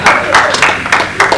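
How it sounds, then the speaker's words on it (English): A single person clapping at a roast event, a handful of separate claps at an uneven rhythm, fairly near and loud, with a crowd murmuring underneath. "I knew that Deborah Bowl was the only one in here that's clapping."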